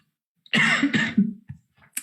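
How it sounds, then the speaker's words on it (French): A couple of harsh, close coughs in quick succession from a commentator at a poker tournament final, followed by a few smaller throat sounds, in an otherwise quiet room. "Pardon, excusez-moi, j'ai un peu toussé"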